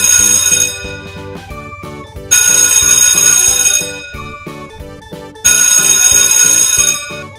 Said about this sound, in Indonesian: Coba kalian dengarkan bunyi bel ini.